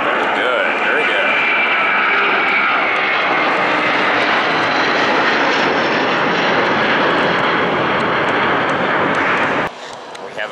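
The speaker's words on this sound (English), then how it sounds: "this A330-300 departs for Amsterdam" An Airbus A330-300 jet airliner departs for Amsterdam, its engines a loud, sustained roar throughout that cuts off abruptly near the end.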